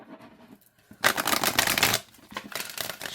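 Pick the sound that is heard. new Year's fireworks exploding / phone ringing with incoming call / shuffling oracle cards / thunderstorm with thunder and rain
shuffling oracle cards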